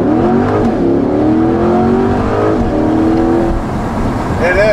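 A 2020 Chevrolet Corvette Stingray 1LT convertible accelerates hard in first gear, its engine note climbing steadily and loud from inside the car, with a voice talking over it.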